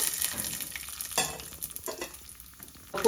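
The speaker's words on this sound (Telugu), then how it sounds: "ఆవాలు, జీలకర్ర, పల్లీలు, శనగపప్పు, మినప్పప్పు ఈ 3 వేయాలి" Mustard seeds, cumin, peanuts, chana dal and urad dal sizzling in hot ghee in a pan, a steady close crackle with a few louder spitting bursts and some stirring.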